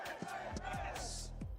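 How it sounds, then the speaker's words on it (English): Esports crowd cheering at a Warzone watch party during the Esports World Cup LCQ, a loud, continuous roar of many voices with repeated surges and shouts throughout. "No shortage of energy here in the crowd."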